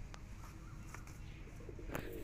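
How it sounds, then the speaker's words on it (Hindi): High flyer pigeons (slate kasni and other breeds) coo softly at a distance, low throaty calls over steady background noise with a few brief chirps. "यहाँ पे देख सकते हो आप उड़ान के कबूतर"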